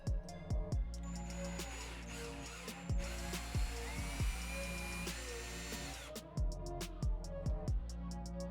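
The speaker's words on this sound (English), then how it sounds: "Now we need to mark our holes on our faceplate so we can pre-drill our holes." A power drill pre-drills screw holes in a door faceplate for a new door knob, whirring in several sustained bursts with a steady motor drone and short stops and starts between them.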